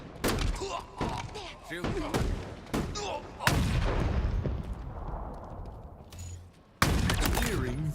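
Video game gunfire, including sniper shots, sounds as a run of sharp, loud reports with heavier thuds between them, mixed with game noise and people talking over the action.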